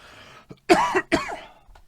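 Two harsh, close coughs in quick succession, with a brief throaty catch between them.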